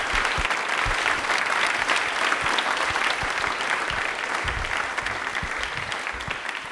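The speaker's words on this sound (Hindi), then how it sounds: "बड़े एक बार तालियां जोरदार बजा दीजिए इनके लिए।" A studio audience at an Independence Day quiz show claps loudly, with dense, sustained applause running the full length and slowly tapering near the end, with no one speaking over it.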